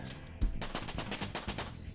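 Persona 5 Royal level up screen effect, a rapid run of crisp bursts like brisk clapping or applause, fairly quiet and lasting under two seconds.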